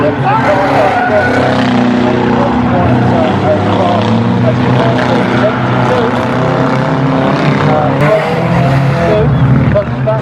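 Banger racing cars roar around Aldershot Raceway, loud continuous engine noise with revving and tyre scrubbing close by, while a commentator talks over the racing.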